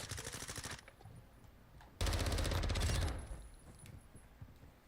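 Booming explosions of a mortar strike in a video game, two loud heavy blasts with rattling bursts, the second one louder and lasting about a second.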